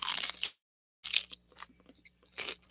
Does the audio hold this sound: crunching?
yes